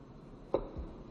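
A cucumber cut with a knife on a board during a Korean cooking exam dish, one short crisp chop, close and quiet, alone in a hushed room.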